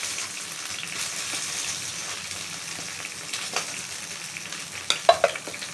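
Pieces of idli fry in hot oil with a steady, close, even sizzle, and a few sharper crackles and pops come near the end, with no talk.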